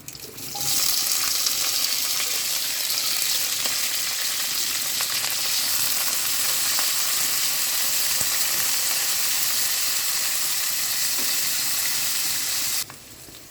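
Fenugreek, mustard seeds, shallots, ginger, garlic, curry leaves and dried chillies fry together in hot oil for sardine sambal, giving a loud, steady, dense sizzle that runs unbroken for most of the clip before cutting off near the end.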